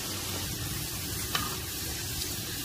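Garlic frying in oil until light brown, a steady close hiss and crackle of sizzling that runs evenly throughout, with one brief clink of a utensil midway and no voices.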